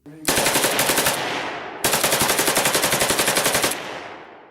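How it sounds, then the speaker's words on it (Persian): AK-47 rifle fire emptying a full magazine in two long, rapid automatic bursts separated by a brief pause, loud and close, with a dense rattling rhythm of shots. "اگه شما انگشتتون رو بذارید روی ماشه یه AK-47 و شلیک کنید"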